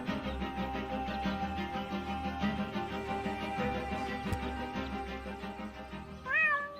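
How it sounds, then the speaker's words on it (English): A cartoon cat meows in the video game Deponia, stuck up a tree and afraid to come down. One short, rising meow comes near the end over a steady bed of game music. "my poor kitty climbed up the tree and she's afraid to come down"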